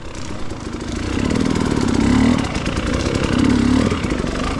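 A trail motorcycle fitted with studded tires runs on a winter trail, its engine loud and close with steady idle swelling into two revving surges, no talking.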